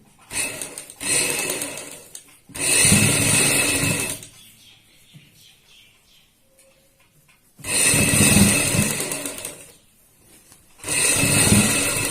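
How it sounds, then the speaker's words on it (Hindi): An electric sewing machine stitches fabric strips in bursts of steady mechanical whirring, three loud runs of a few seconds each with quieter pauses between them. "और यहाँ पे हम सिलाई लगाएंगे इस तरीके से।"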